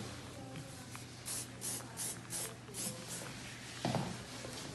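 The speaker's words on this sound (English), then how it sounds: "just spray it where those fringes were" A series of short hairspray bursts onto hair, about six in quick rhythm, close by, followed by a brief rustle.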